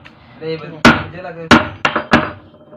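Sharp metallic knocks while a lock is driven out during repair of a household water pump motor, four hard hits spaced irregularly over a few seconds, close and loud, with someone talking between and over them.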